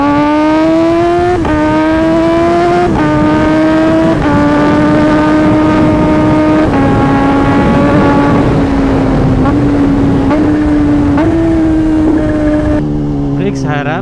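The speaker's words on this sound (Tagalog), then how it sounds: "Sarap paglaro ng quick shifter auto flip up and down basta nasa tamang RPM." A Kawasaki ZH2 motorcycle engine revs loudly and close up, pitch climbing in steps then dropping with quick shifter gear changes that recur about every second or two.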